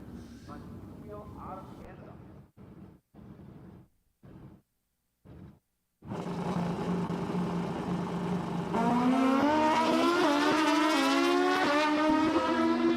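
Drag racing cars launch down the strip at Empire Dragway: after choppy broken audio, a loud engine roar bursts in and rises into a climbing high-pitched wail as the cars accelerate, with an announcer talking over it.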